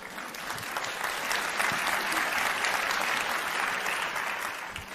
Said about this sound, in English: If y'all clap after everything I say